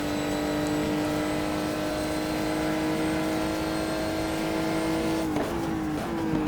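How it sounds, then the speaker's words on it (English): A GT1 race car in the GTR2 racing game howls through an onboard lap, its engine note loud and steady while it climbs slowly, then dropping sharply with quick gear shifts in the last second. "just look at the cars coming by: a Saleen, a Maserati, and a very nice Viper, as we go on board for a quick lap"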